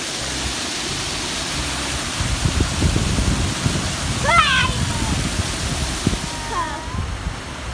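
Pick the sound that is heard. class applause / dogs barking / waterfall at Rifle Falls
waterfall at Rifle Falls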